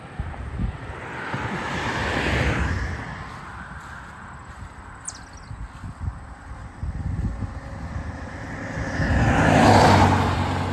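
A car passes on a road beside the Norway Cemetery in Norway, Illinois, with tyre and engine noise swelling and fading under heavy wind buffeting on the microphone, building loudest near the end.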